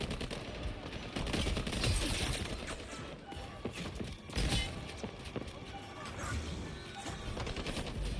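Video game gunfire in a team shooter match, dense continuous bursts of shots and impacts under a loud busy mix, close and sustained throughout.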